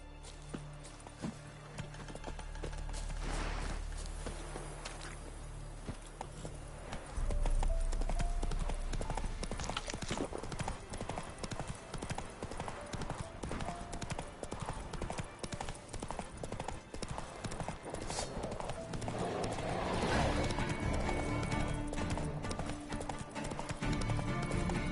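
Roach the horse gallops in the Witcher 3 video game, a steady rapid drumming of hooves that starts lightly and becomes louder and continuous, with game ambience beneath and no talk.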